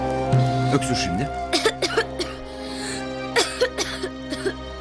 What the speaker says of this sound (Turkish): Öksür şimdi.